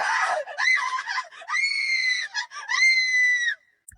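A woman screams in fright in a haunted haveli, with several loud, shrill, sustained shrieks broken by brief gasping breaks, close and alone.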